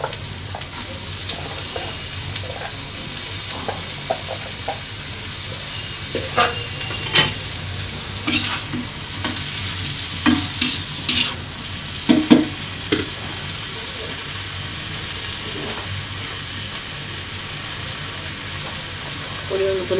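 Vegetables with garlic and green chilies being stir-fried in a pan, a steady low sizzle punctuated by scattered sharp clinks and scrapes of a utensil, close and moderate in level.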